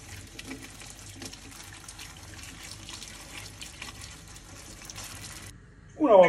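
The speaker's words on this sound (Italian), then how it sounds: "bisogna sciacquare bene bene le patate sotto acqua corrente fredda" Cold tap water runs steadily over potatoes being rinsed in a sink, a soft continuous hiss and patter for several seconds before stopping, followed by a brief louder clatter at the end.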